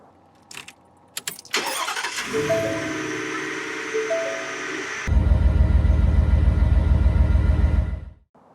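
A few clicks, then a 2023 Ford F-150 XL's starter cranks and the engine fires, idling before dropping into a loud, low, throbbing rumble that cuts off.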